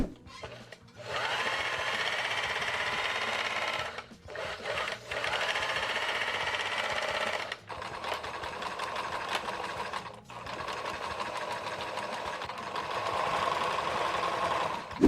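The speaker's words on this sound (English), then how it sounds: "So from one end, go all the way around and overlock everything." An overlock machine stitches around the edges of a fabric cargo pocket in several long, continuous runs separated by brief pauses. The loud, dense whir stays close throughout.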